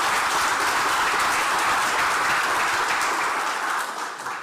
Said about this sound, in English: Let's give them a wonderful round of applause again.